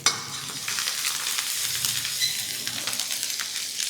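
Curry leaves dropped into onions frying on low gas, a continuous close crackling sizzle with some stirring, steady and alone without talk.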